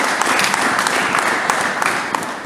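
Steady, dense applause from a church congregation rolls on without pause, many hands clapping loudly in a large room, no voices standing out.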